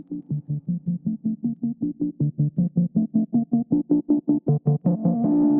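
A fast, steady wavetable synth arpeggio without LFO shaping, short evenly spaced notes, bright and upfront, with no talking; the pattern climbs slightly before a sustained tone at the end.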